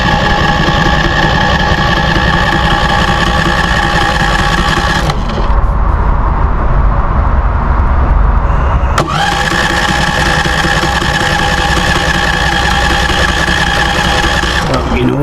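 A Westinghouse iGen4000 portable generator engine runs with a steady buzzing drone, cuts out for a few seconds, then starts again and settles back into a loud, even run while people talk nearby.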